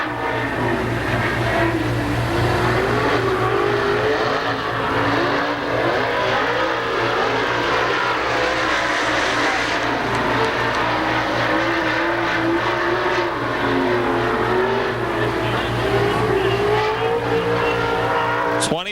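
Dirt late model race cars on the first lap at Pennsylvania Motor Speedway, engines roaring loud and continuous with rising and falling revs as the pack circles the track.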